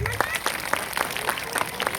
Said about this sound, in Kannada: ಒಂದ್ಸರಿ ಜೋರಾದ ಚಪ್ಪಾಳೆ ಹಾಕಿ